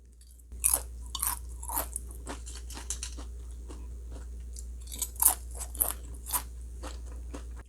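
Crispy dried whitebait sheets, a keto snack seasoned with monk fruit, crunch sharply between the teeth in a run of close, loud bites and chews with short pauses, no talking.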